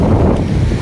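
Strong wind buffets the microphone at Dandi Beach by the sea, a steady loud rumbling roar with no voices over it.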